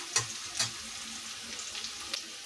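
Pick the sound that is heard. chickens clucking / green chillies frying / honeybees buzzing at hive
green chillies frying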